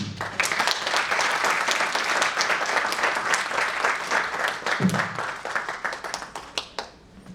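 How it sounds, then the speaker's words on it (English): An audience at a personal finance talk claps, a dense round of applause with crisp individual claps that thins toward the end, close and steady, with no talk over it. "Let's have another round of applause, please"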